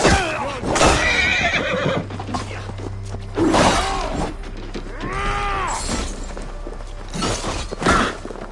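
Horses whinny loudly and repeatedly in a video game night scene, with clattering hooves, thuds and mechanical clanks mixed in; one drawn-out neigh stands out near the middle.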